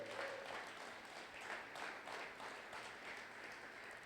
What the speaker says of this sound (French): Est-ce qu'on peut acclamer encore pour la gloire de Jésus?